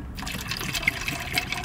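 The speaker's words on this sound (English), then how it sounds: "I just arrived here at clinic and filling up my water here." Water runs steadily from a dispenser into a bottle at a clinic, a continuous close trickling and gurgling fill with small bubbly splashes and no talking.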